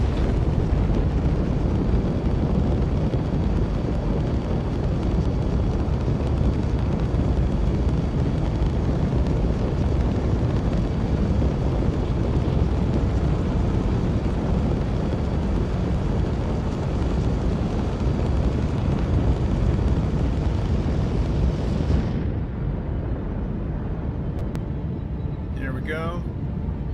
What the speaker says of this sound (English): I love the fact you can hear the engine. Not sure about all the crackly explosions, though.